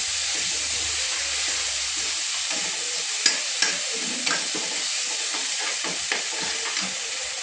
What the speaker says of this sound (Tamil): தக்காளி, பூண்டு எல்லாம் போட்டதெல்லாம் அரைச்சி வச்சுக்கலாம். அதையும் வதக்கலாம்.